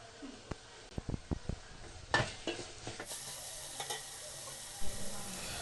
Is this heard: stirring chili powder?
yes